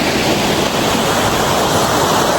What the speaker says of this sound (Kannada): ಬಾಹುಬಲಿ ಆಗಿತ್ತಲ್ಲ ಅಂತ ಜಲಪಾತ ಇದು